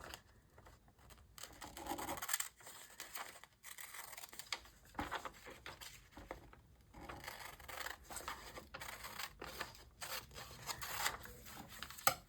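Scissors snip and rub through paper while trimming a large paper doll for a magazine collage journal, giving faint, close, irregular cutting and rustling strokes with no talking.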